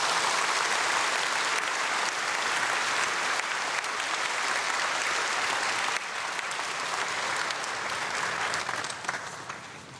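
A church congregation claps steadily to welcome a visiting pastor at an early-morning dawn prayer service, the dense applause sustained at full strength before tapering slightly near the end.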